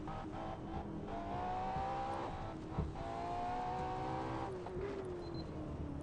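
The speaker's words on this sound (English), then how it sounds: "Let me try to stop and check out the engine sounds." Car engine from the Assetto Corsa racing game, driven in VR multiplayer on the Shutoku expressway, hums steadily with tones that rise and fall as the revs change, loud and close, with no talking.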